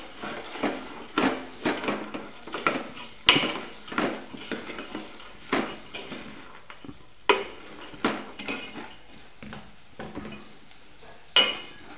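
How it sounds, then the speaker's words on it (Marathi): Matki (moth bean) bhaji with masala being stirred in a pan, a spoon scraping and knocking against the metal in repeated sharp strokes over a faint sizzle, no voices. "मसाला सर्व मटकीला लागेल असं मिक्स करायचं।"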